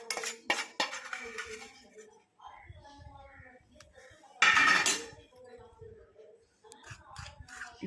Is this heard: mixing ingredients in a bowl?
yes